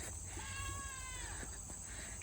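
A goat on an autumn homestead bleats once in a long, wavering call over steady background hiss, fairly close and moderately loud, with faint movement noise after.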